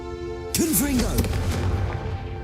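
A Confringo fire spell blast in the Hogwarts Legacy video game, a sudden booming burst that follows a voice calling out and lingers in a rumbling decay while another voice speaks over it.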